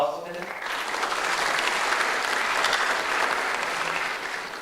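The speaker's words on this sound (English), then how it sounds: "Round of applause for them." Audience at a business idea competition grand finale breaking into steady applause, a dense wash of clapping that swells quickly after a brief spoken introduction and holds evenly for several seconds before starting to fade.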